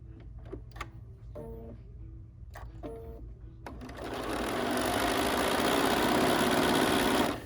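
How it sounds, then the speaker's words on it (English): A sewing machine stitches quilt pieces together for a block-of-the-month quilt, starting with short stop-start bursts of stitching that then settle into a steady, continuous run, close and clear with no talking. "now we'll go back and we'll sew the pieces on the other side."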